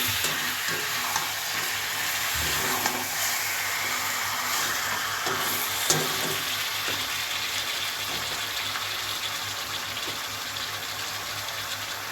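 Chicken sizzles steadily in oil seasoned with panch phoron, a soft continuous frying hiss with occasional stirring scrapes and clinks, fairly quiet and close, no voices.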